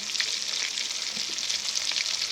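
Chicken wings fry in oil over a low flame, a steady, close crackling sizzle that holds evenly throughout with no talking.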